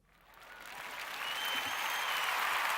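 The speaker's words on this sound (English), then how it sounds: "round of applause for you guys from us" Audience applause swells steadily from a quiet start to a full, sustained round of clapping, growing louder over a few seconds.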